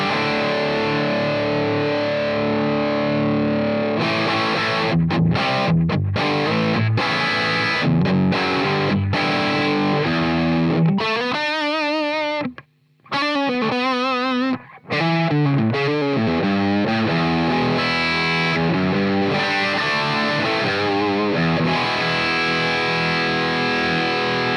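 Distorted electric guitar through a ToneX capture of an amp's orange channel, heavily driven sustained chords and riffs ringing loud and continuously, with two short pauses midway.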